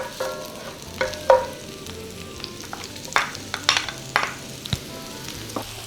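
Chopped shallots frying in olive oil for risotto, a steady close sizzle broken by several sharp clicks and scrapes of a utensil against the pan, with a soft music bed underneath.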